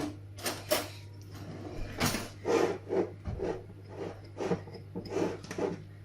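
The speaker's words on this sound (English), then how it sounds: "trim the edge with a fork" A fork pressing and crimping the pastry edge of a beef pie, making soft, irregular scraping and tapping sounds close by, with a steady low hum beneath.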